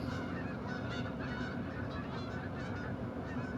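Geese honking steadily in a hunting video game, a dense, continuous flock chorus at moderate loudness with no talk over it.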